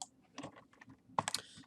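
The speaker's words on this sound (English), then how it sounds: "I'm going to hit control E on my keyboard" Computer keyboard keys are pressed in a short burst of light clicks and taps, close and fairly quiet, a few separate strokes followed by a denser cluster of clicking.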